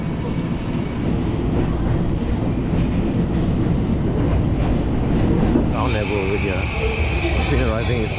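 A Ginza line subway train in Tokyo rumbles and clatters loudly and steadily on the rails, with a rising squeal in the last few seconds, while voices talk over it.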